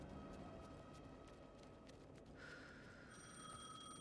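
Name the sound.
telephone ringing in the video game Alan Wake 2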